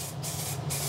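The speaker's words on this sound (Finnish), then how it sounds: "aletaan suihkimaan" Spray paint hisses steadily from an aerosol can onto a car muffler being repainted, a close continuous spray with brief pulses as the nozzle is pressed and released.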